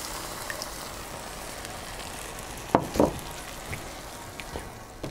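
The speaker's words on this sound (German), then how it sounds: "werden wir das Ganze jetzt mit der Hühnerbrühe ablöschen" Paprika chicken in a Dutch oven is deglazed with chicken broth, giving a steady soft sizzle and crackle, with a couple of louder splashing bursts midway.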